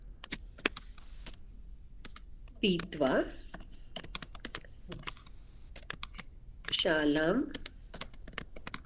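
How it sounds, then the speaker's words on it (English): Someone types on a computer keyboard, entering a Sanskrit sentence in WX notation. The keys give rapid, uneven clicks throughout, and someone speaks briefly twice between bursts of typing. "I am typing in"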